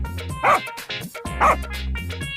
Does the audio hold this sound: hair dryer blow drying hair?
no